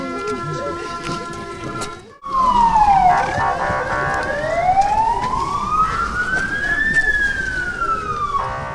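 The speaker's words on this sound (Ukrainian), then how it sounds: "Під звуки сирен пожежних машин" A wailing fire engine siren sweeps up and down in long rising and falling tones, loud and close, with steady traffic-like rumble underneath after an abrupt start.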